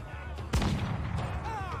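A ship's cannon fires in the naval combat game Assassin's Creed 4: Black Flag, one sharp boom followed by a rumbling tail under a faint background.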